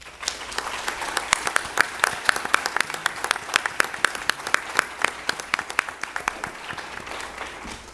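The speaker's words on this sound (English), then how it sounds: "I will ask the crowd, the audience, to join me in applauding the efforts of this current Berkeley County Board of Education" An audience at a Berkeley County school board meeting applauding the Board of Education: a room full of clapping with distinct sharp individual claps, steady and moderately loud for about eight seconds, tapering slightly at the end.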